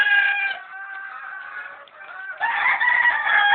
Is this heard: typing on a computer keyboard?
no